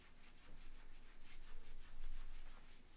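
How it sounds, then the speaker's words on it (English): Leather dye being rubbed into leather with a dauber, a steady soft scrubbing texture with repeated strokes, close and moderately loud, with no talking. "Just dip the dauber in and rub it in."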